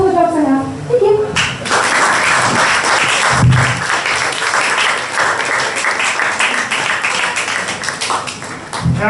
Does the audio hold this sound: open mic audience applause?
yes